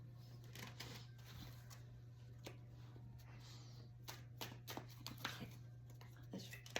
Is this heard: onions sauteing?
no